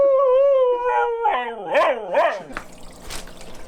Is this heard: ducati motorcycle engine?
no